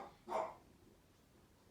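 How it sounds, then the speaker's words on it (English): A single short dog bark rings out near the start, fairly faint and indoors, followed by quiet room tone. "When one barks, all three of them get going."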